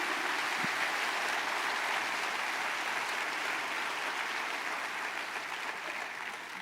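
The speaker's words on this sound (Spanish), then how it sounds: "Dale un fuerte aplauso al Señor Jesús." A church congregation gives a long, sustained round of applause praising Jesus, a dense, even wash of clapping from many hands that fills the room and fades slightly toward the end.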